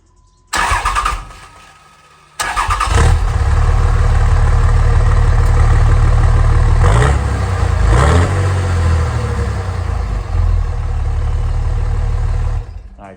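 A Dodge Cummins 5.9 diesel with a Banks 4-inch exhaust and muffler cranks briefly, then fires and settles into a loud, rumbling idle with a couple of blips, close by.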